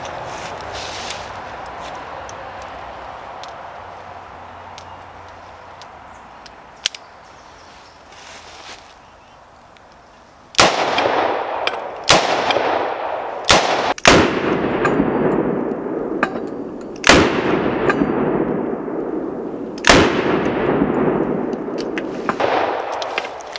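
Gunshots from a powerful cartridge strike an HG2 bulletproof vest after a quiet stretch. Several sharp, loud bangs follow one another at uneven intervals, each with a short ringing decay.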